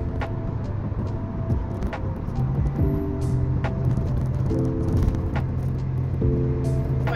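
A car drives along with a steady, close interior road rumble and engine hum, with a few soft clicks and brief tones sounding over it and no talking.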